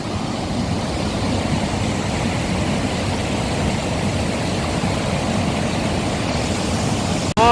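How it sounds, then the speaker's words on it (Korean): Stream water rushes through Gucheondong valley at Muju on Deogyusan, a steady, dense, close wash of flowing water that holds level throughout with no voices. "물소리랑 물줄기가 너무 시원하네요"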